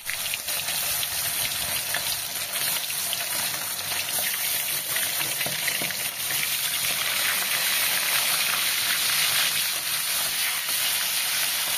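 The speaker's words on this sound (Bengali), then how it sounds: "মাছগুলো ভেজে নেড়ে নেব। বেশ কড়া করে ভেজে নিতে হবে।" Fish frying in mustard oil produces a loud, dense, steady hiss and crackle that fills the whole stretch without a break, with no talking.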